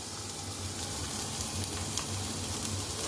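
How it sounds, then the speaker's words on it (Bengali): Capsicum and julienned ginger sautéing in butter over low heat, giving a steady, soft sizzle and crackle that holds at an even, close level throughout, with a brief louder knock right at the end. "এবার আঁচটা কমিয়ে 10 মিনিট একটু বাটারে এই ক্যাপসিকামগুলো সতে করে নেব"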